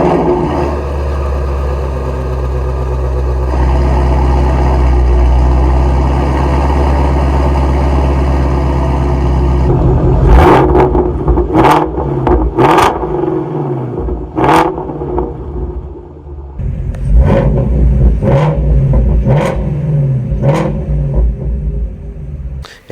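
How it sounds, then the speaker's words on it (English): A 2016 Ford Shelby GT350R with its high-revving V8 settles into a loud, steady idle, then barks through a series of sharp throttle blips, each rev rising and falling quickly before the exhaust burbles back down. "So this revs quite high, which gives it a very unique exhaust sound as well."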